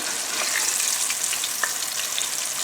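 Boneless chicken thighs frying in light olive oil over a high flame: a loud, close, continuous sizzle with faint crackles and pops throughout, no voices.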